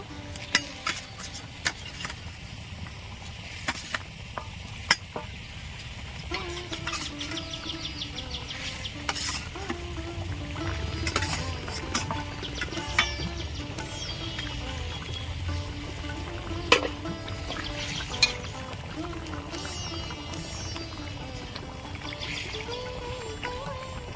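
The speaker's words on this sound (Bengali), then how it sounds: "জল দিয়েছি গ্রেভিটা ফুটছে" Gravy for a pangas fish curry simmers in a pan with a soft, steady bubbling sizzle, broken by occasional utensil clinks and stirring, close and fairly quiet.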